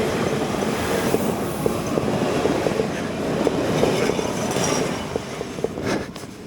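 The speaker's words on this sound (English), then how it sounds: "There goes the train. The S7 I was just on in the opposite direction." An S7 commuter train in rural Austria, near Rogelsbrunn, passes by in the opposite direction. It makes a loud, steady broadband rumble with faint rhythmic wheel clicks, then fades slightly at the end.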